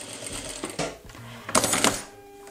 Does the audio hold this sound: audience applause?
no